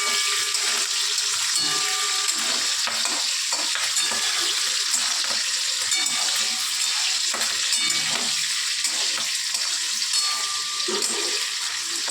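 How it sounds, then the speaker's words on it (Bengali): Beans frying in a pan for a mixed vegetable dish produce a loud, continuous hiss with pulsing crackles that rise and fall through the whole stretch. "বিনগুলো দিয়ে দেবো বিনগুলো ভেজে নেবো ভালো করে"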